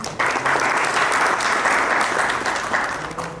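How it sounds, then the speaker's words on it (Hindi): A crowd at a book event in Jaipur bursts into loud applause, a full dense clapping that holds steady and then slowly fades. "जोरदार तालियां होनी चाहिए।"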